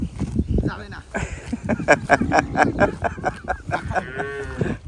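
Several cattle moo repeatedly, fairly close, on grassy river islands, with overlapping low calls and rustling outdoor activity in the background.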